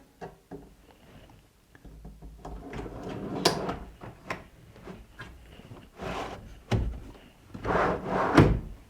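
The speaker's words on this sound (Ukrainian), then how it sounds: "Встановлюємо шухляди." Drawers are installed into a kitchen base cabinet, with scattered wooden knocks, sliding scrapes and thuds at moderate distance, irregular and fairly quiet, with no talk.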